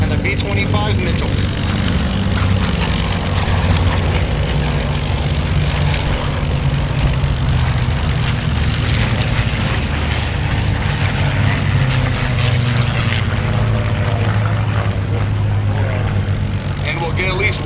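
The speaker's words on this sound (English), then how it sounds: "Another pass by the BF-108 and the B-25 Mitchell." A Bf 108 and a B-25 Mitchell make a pass at an airshow, a continuous loud propeller drone with a slowly shifting pitch, and a commentator's voice runs over it throughout.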